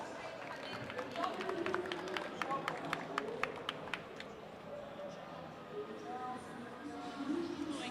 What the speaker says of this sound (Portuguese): Uma salva de palmas para os nossos convidados.